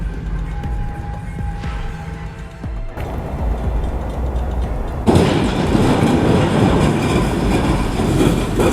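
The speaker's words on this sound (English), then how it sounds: "Horrifying moment, Union Pacific train crashes into stuck empty tractor trailer while trying to cross tracks" A Union Pacific train strikes an empty tractor trailer stuck on the tracks, its rumbling approach turning into a sudden louder crash and grinding roar that continues to the end.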